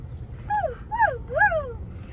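A voice imitates a dog, making three drawn-out whimpering yelps in an even rhythm over a low background rumble.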